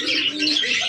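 A chocolate doma male pigeon coos in a brief, close burst that is breathy and warbling, with some chirpy, airy texture and no talking.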